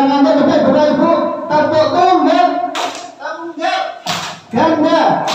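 Hand claps from a classroom audience in rhythmic groups with brief pauses between bursts, close and loud, with voices mixed in among the patterns.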